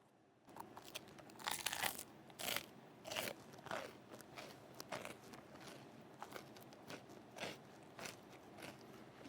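Bites into crunchy red bean butter bread give a string of crisp, crackling crunches at a steady chewing pace, heard up close but quiet, with no voice over them.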